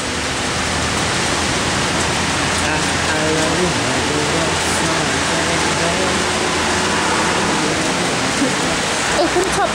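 Heavy rain pours steadily on a Toronto street, a dense, constant hiss close by with faint traffic underneath and no pauses.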